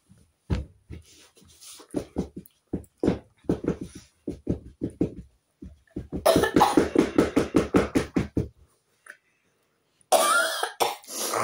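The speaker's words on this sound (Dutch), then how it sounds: "ik moet even hoesten" A person coughs in a long series of short, sharp bursts, close and loud, with rapid runs of hacking in the middle and a final harsh cluster after a brief pause.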